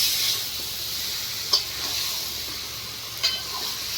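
Fish fries in hot oil with a steady, close sizzle throughout, broken by two brief scraping clicks where the pieces are gently stirred in the pan for fish pulusu.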